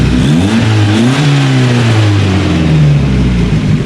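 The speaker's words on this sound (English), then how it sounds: "Let's see if we could rev it." A Mazda Miata engine revs up and settles back, its rising and falling pitch sweeping through loud, close mechanical roar with no one talking.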